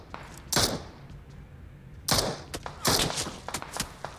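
Gunfire in the mobile battle royale game PUBG Mobile: sharp shots crack out in short, uneven bursts with quiet gaps between, clear and without talk.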